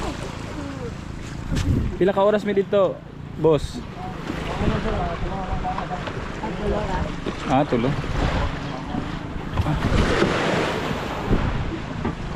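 Pump boat ride across the sea to Camiguin island, with constant wind buffeting and waves washing against the hull beneath a low engine drone, while people talk over it close by.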